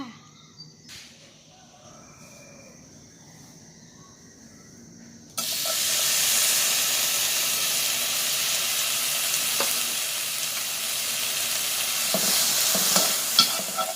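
Galangal, lemongrass and kaffir lime leaves dry-roast in a pan with no oil for a canned-fish curry, giving a loud, steady sizzling hiss that starts abruptly after a quieter opening, with occasional stirring clicks up close.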